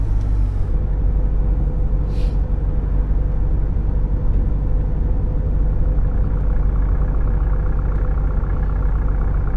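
A bus engine in Fernbus Simulator drones with a loud, steady, low rumble that never lets up, sounding rough and heavy, almost like a tractor.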